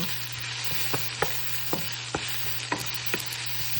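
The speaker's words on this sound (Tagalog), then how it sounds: "Gisa-gisa lang tayo, guys, muna." Chicken pieces sauté in a hot pan, a faint steady sizzle with a low hum beneath and a string of light, evenly spaced spatula taps and scrapes.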